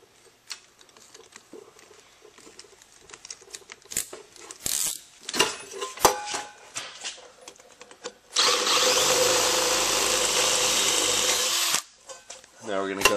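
Small clicks and handling noises, then a power drill whirs loudly and steadily for a few seconds, drilling a hole in a metal can, before stopping.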